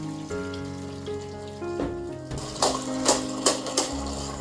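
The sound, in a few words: pouring off rinse water from egusi melon seeds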